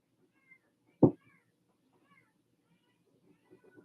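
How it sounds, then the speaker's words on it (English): A pet cat gives a single short meow, close and fairly loud, in an otherwise quiet room with faint background murmurs. "Oh, do you hear my cat?"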